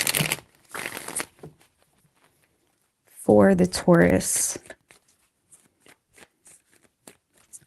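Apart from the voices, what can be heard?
tarot cards being shuffled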